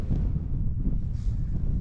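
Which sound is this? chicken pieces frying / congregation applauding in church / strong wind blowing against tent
strong wind blowing against tent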